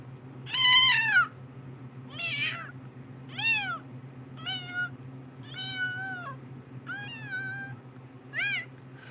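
A person imitates a kitten's meow, giving seven high, thin mews in a steady series over a low background hum, close and moderately loud, with no talking.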